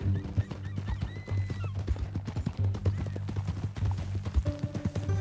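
Horse hooves clip-clopping in Red Dead Redemption 2, a steady close walking rhythm of hollow knocks with a brief whinny, continuing under quiet background tones.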